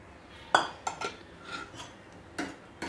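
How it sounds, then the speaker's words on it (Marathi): A spoon stirs dry fruits into sabudana kheer with ghee in a pot, making several light metallic clinks and taps against the vessel at an uneven pace, close by and fairly quiet with no talking. "हे बघा, सर्व ड्रायफ्रूट्स टाकून मी मिक्स करून घेते।"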